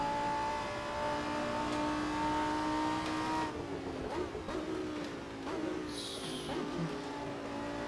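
A Lamborghini Huracán GT3 races at Silverstone in the Assetto Corsa racing game, its engine holding a steady high-pitched howl, then easing and shifting down with a few brief pops, loud and continuous throughout.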